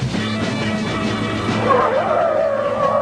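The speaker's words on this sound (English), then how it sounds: "From 30 miles an hour, it only took 36 feet to stop." A 1971 Buick with a standard V8, 4-barrel carburetor and 3-speed automatic brakes hard from 30 mph, its tires giving a rising, drawn-out skid squeal over steady road and engine noise, fairly loud and close.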